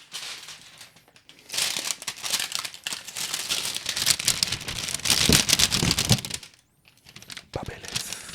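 Paper packing from an album being unboxed crinkles and rustles loudly and continuously up close, with brief pauses near the start and the end.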